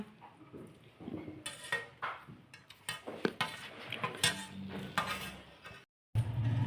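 Dishes and utensils being picked up and handled at home after a meal, with a run of close clinks, clatters and scrapes of metal and plates in irregular bursts, then a short silence before more handling.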